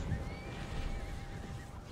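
A horse whinnies during a siege battle in the video game Lord of the Rings: Conquest, a faint wavering neigh set against a steady din of fighting and rumble, somewhat distant.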